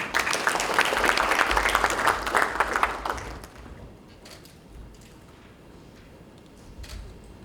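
An audience at a Democratic Party workshop for local government heads gives loud, dense applause to welcome a speaker, lasting about three seconds before fading to a quiet room with scattered claps.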